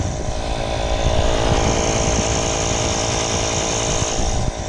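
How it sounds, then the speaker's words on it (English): A portable air pump bought from Walmart drones loudly and steadily while inflating low car tires at a roadside stop, with a harsh, buzzing mechanical whine and no break. "I'm filling them up with this pump we got from Walmart"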